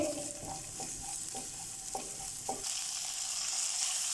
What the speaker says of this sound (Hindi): ये लहसुन अदरक चॉप डालेंगे तकरीबन 1 टेबलस्पून और इसको हल्का सा सौते करेंगे